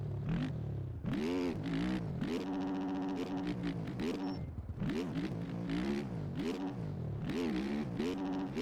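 Motocross bike engine in the MX Bikes racing game, revving hard in repeated surges and drops as the rider throttles through a dirt track, loud and close with no talk.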